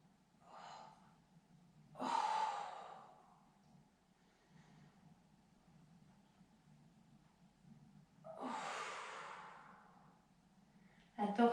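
Slow rhythmic breaths during a Pilates breathing exercise, with a few strong exhales and gasps standing out over a faint steady background, spaced several seconds apart.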